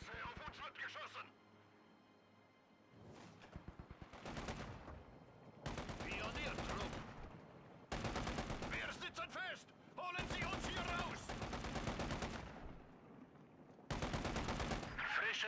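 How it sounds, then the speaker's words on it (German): Bursts of gunfire and machine-gun fire in Company of Heroes 2, several loud sustained volleys separated by short pauses, with a voice heard briefly. "Scheiße, auf uns wird geschossen!"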